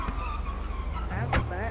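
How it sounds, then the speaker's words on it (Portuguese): Car tires screech briefly during a car outing, a short sharp squeal rising over steady engine and road rumble, with a voice talking nearby. "barulhada de pneu"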